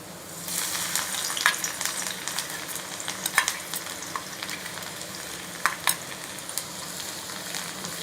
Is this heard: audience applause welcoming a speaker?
no